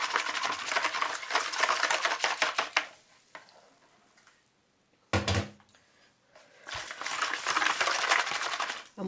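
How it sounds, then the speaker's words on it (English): Warm milk in a mug is whisked briskly, rapid scraping strokes in two bursts separated by a quiet pause and a brief clatter, fairly faint with no talk. "So warm up your milk and give that a whisk."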